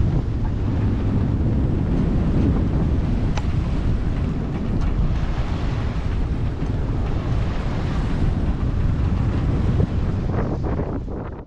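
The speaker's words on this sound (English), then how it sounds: "now we've got an ocean breeze" Steady ocean breeze buffets the microphone on a sailboat off the Yucatan coast with a low constant rumble, and water washes faintly underneath, with no talking.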